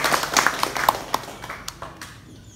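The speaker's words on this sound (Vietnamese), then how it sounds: "Xin chúng ta cho một tràng pháo tay." Scattered clapping from a small audience at a gathering, a few distinct hand claps over roughly two seconds that thin out and fade, fairly close.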